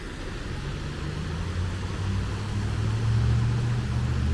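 A low, steady rumble of passing truck traffic drifts into a quiet city park beside Beargrass Creek, a distant engine drone that swells gradually over a few seconds with no voices.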